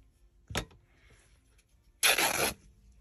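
Two short bursts of cutting or tearing through cereal box cardboard, a brief one followed by a louder, longer rasp, close by and otherwise quiet.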